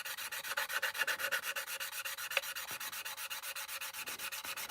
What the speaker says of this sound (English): just sand it forwards and back with the flexi file